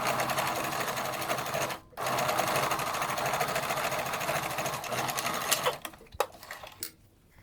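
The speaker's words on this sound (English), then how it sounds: "So sew along where the dotted line was." A sewing machine runs in a steady, loud mechanical whir while stitching a fabric face mask along a dotted line, pausing briefly once, then stopping with a few clicks and short bursts at the end.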